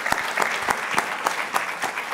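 A church congregation applauds for the King of Kings, producing a brisk burst of clapping with distinct rhythmic beats rising from a dense layer of hands.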